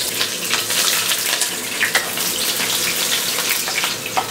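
Chopped onions hitting hot soybean oil in a pot on the stove, a dense, loud, continuous sizzling hiss with crackling pops throughout, no voices.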